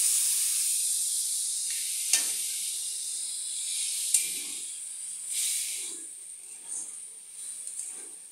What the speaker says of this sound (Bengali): এবার আমি এঁচোড়টাতে সামান্য একটু জল দিয়ে দেব।